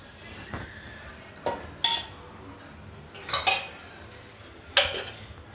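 A metal kadai is set on a lit stove and a little oil is added, giving a few sharp, close metallic clanks and clinks at uneven gaps over a quiet background.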